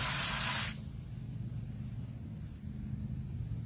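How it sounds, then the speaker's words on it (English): Water sprays onto a freshly planted plant in a short loud hissing burst under a second long, then fades to a quiet low background rumble. "I water it in."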